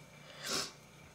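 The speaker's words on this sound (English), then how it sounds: "Excuse me for sniffling." A person gives one short, breathy sniffle midway through an otherwise quiet stretch, close to the microphone, with no talking.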